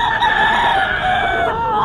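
A stag rooster at a pet market in Bocaue crows loudly and close, a sustained strained call filling the whole moment.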